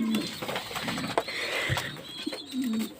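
King pigeons in a loft coo softly and close by, a few low throaty calls amid light rustling and scuffling.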